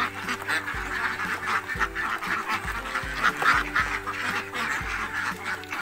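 A flock of laying ducks quacking while they eat and drink, a dense chorus of overlapping nasal quacks at close range, steady and busy throughout.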